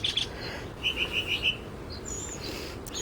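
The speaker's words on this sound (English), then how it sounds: "Good morning, birds." Birds chirp in a morning garden, a short run of five quick high tweets after a couple of earlier notes, with fainter calls further off over quiet outdoor background.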